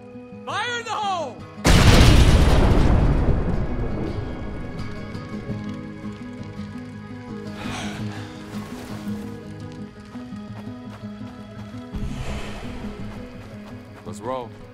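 A single loud explosion goes off in the State of Decay video game. The heavy boom rumbles and fades over several seconds, followed by fainter game effects and voices.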